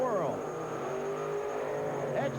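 A monster truck roars off the start line with a strong hole shot in a 1992 USHRA race at Louisville, its engine a loud, sustained rising growl over crowd noise, with an announcer talking over it.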